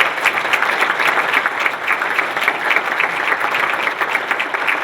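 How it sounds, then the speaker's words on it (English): Sustained, crowded applause from the audience at a business appreciation breakfast in Northglenn, steady and fairly loud throughout with no talking over it. "How about one more big round of applause for all of our leaders today?"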